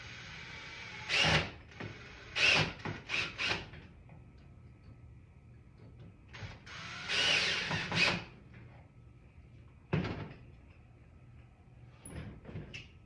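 A power drill drives pocket hole screws into wood in short bursts, several whirring runs separated by pauses, close and moderately loud in a quiet room.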